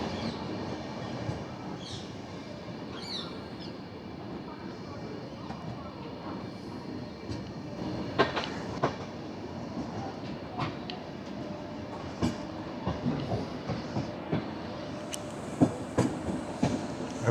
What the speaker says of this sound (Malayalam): പ്ലാറ്റ്ഫോം 3 ഏതോ വണ്ടി വരുന്നുണ്ട്.